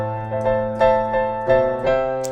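A piano comes in up an octave on a song, playing a few rhythmic chord hits that ring over sustained tones, moderately loud and close, with no talking.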